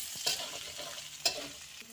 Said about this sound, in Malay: Kita kacau bagi garing sedikit bawang tu